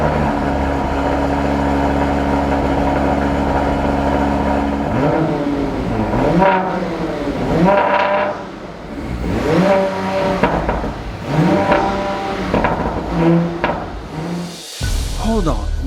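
Twin-turbo V6 of an Audi RS5 sedan firing up cold, then blipped through several sharp rising and falling revs that dominate at close range, with a brief cut near the end.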